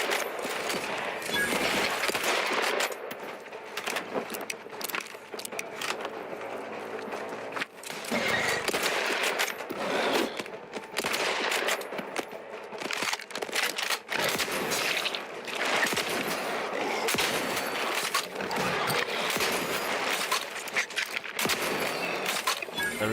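Repeated shotgun blasts in The Outer Worlds 2 sound in loud, dense volleys through the fight, over game noise and a voice.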